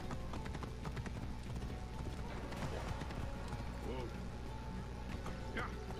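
Horse hooves clip-clop in a steady trotting rhythm in the video game Assassin's Creed Origins, with a short whinny, over a constant background bed.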